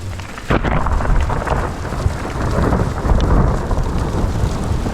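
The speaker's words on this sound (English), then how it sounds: "as I spoke, started pelting down hail pellets" Hailstorm with thunder on a cycling trip in the southern Balkans, hail pellets pelting down loudly and steadily around a sheltering spot, with a low thunder rumble beneath the dense patter.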